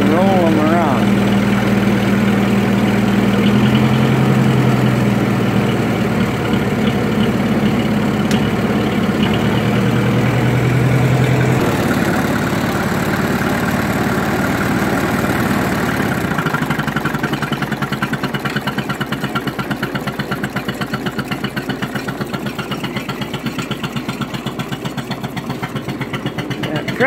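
A 1951 Ferguson TE 20 tractor engine idles close by in a steady low rumble, its tone shifting partway through and then settling lower, with people talking faintly over it.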